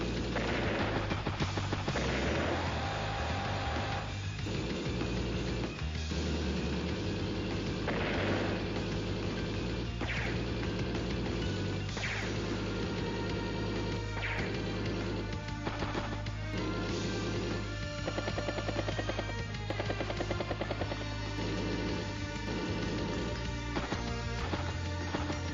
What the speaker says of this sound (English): Battlecopter does hit battlecopter.